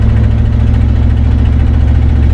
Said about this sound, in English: Okay, the engine runs.